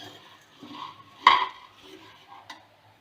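A spoon scrapes and rustles through fried groundnuts and puffed rice in a pan over low flame, with a brief sharp metallic knock in the middle and a lighter tap near the end, quiet otherwise.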